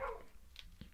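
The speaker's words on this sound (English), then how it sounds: "Can you hear the dog barking?" A dog barks faintly in the distance, a brief single yip or two heard over a quiet room tone.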